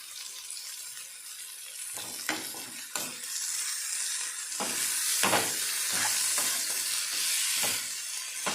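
Greens and sprouted legumes sizzle steadily in a pan while a utensil stirs and scrapes, the frying hiss rising and holding loud and close, with no talk.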